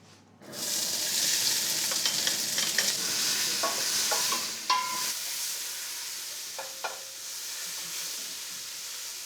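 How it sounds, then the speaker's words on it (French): Finely sliced onions frying in olive oil, a loud steady sizzle that starts abruptly and hisses on continuously, with occasional clinks of stirring and a slight drop in intensity partway through. "On va faire rissoler ça dans l'huile d'olive."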